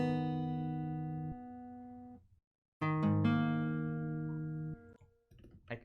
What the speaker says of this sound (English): And without effects.